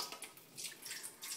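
A gallon of water is poured into a large metal bowl, giving soft, faint splashing and trickling in uneven surges with light metallic resonance.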